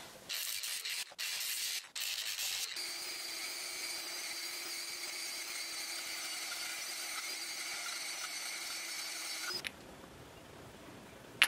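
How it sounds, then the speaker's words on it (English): A belt sander grinds leftover casting sand off a cast bronze cannon barrel, a steady abrasive whir running for several seconds after brief bursts, then stopping abruptly. "I used the belt sander to get the rest of the sand off."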